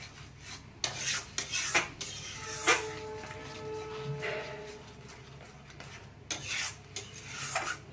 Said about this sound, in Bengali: এবারে এটাকে নাড়তে হবে, জল শুকিয়ে যাবে।